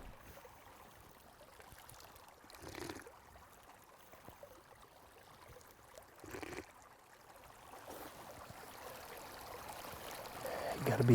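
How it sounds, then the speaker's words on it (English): Clear mountain runoff streaming fast down a slope outdoors, with a steady rushing wash that swells in a few places and grows louder toward the end, and no voices. "When it's clear and it's flowing off the mountain fast like this and it's runoff"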